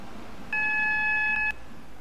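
A train horn in the Stepford County Railway video game sounds as one sustained electronic two-tone beep lasting about a second, clear and fairly loud over quiet background noise.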